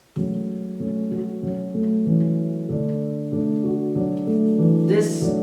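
Steady piano chords repeat in an even rhythm, sustained and mid-loud, with a brief bright hiss near the end.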